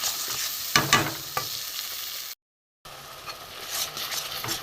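Ground cumin, coriander, chilli and turmeric with salt, plus a paste of tomato, onion, ginger and garlic, sizzling and being stirred in a pan for egg curry, with a steady fry, scraping stirs and a brief silent gap midway.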